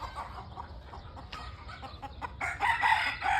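Local desi chickens and a rooster on a village farm that also keeps cows and ducks; a rooster crows loudly near the end over steady clucking and farmyard background.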